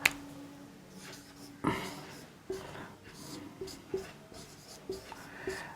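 Chalk or marker strokes on a board during a Hindi grammar lesson on visarga sandhi, a series of short, crisp scratches and taps repeating roughly every second, close by, with a faint voice in the background.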